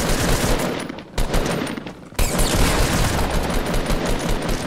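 Rapid automatic gunfire from a Fortnite match, dense continuous bursts that fill the scene, broken by two brief gaps before the firing resumes just as loud.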